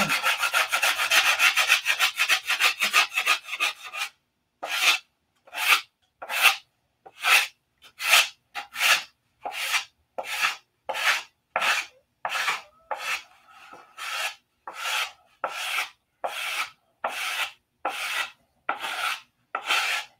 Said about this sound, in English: it's going to take a little more sanding